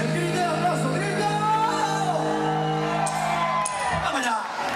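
Crowd shouting and whooping at an outdoor orchestra concert in Vedra, A Coruña, loud sustained cheers layered over music with a held tone throughout.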